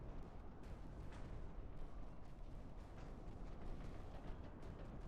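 Naval gunfire rumbles on in the Ultimate Admiral: Dreadnoughts warship battle, a dense, continuous low roar with scattered sharper cracks of distant shots layered through it at steady loudness.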